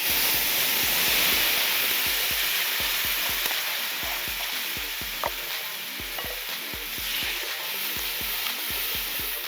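Milk poured into a creamy white-pepper and coriander sauce in a kadhai sizzles and fries steadily, with a rhythmic stirring scrape repeating over the constant hiss throughout.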